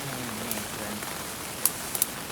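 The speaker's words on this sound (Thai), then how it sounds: "ฝนตกอย่างต่อเนื่องเลยนะแบบบ่หยุดเลยตั้งแต่เช้าเมื่อคืนนี่แหละ" Steady rain falls on a mountainside, an even broadband wash with a few sharper drop impacts near the end, no voices.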